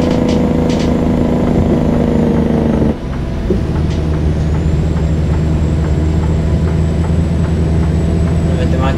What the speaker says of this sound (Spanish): Vamos a poner frente motor.